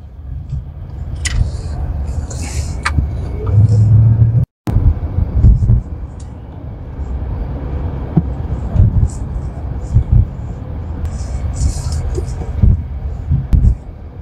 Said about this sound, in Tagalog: Road test na yan